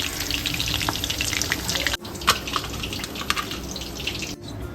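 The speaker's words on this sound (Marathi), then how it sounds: "दोन मिनटं मी स्लो गॅसवर आणि एक मिनटं मी मिडियम गॅसवर अशा प्रकारे ही कलेजी तळून घेतलेली आहे" Chicken liver fries in oil in a pan over a gas flame, a steady close sizzle with a few brief pops and stirring noises and no talking.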